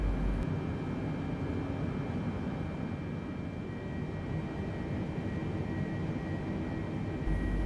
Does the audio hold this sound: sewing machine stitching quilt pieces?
no